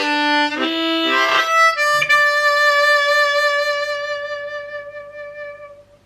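A diatonic harmonica plays a slow blues theme in G, tongue blocked, with sustained rich reedy notes and a few quick changes before a long held note fades out; close and solo, no talking.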